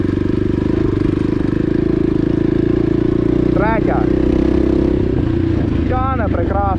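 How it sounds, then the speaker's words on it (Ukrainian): A Dakar 250 enduro motorcycle engine runs close by with a steady, loud mid-pitched idle hum and chatter, while someone talks over it. "Ці мотори хочуть крутитися, щоб вони нормально тягнули"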